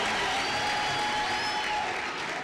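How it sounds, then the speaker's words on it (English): A crowd claps steadily at a graduation ceremony, a dense, even wash of applause that fills the whole moment with no pause or voice on top. "Another round of applause for Anathi."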